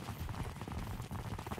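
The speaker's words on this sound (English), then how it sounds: "They brought some horses." Horse hooves clip-clopping in Mount & Blade II: Bannerlord, a steady busy patter of several mounts moving together at moderate distance, continuous across the moment with no talk over it.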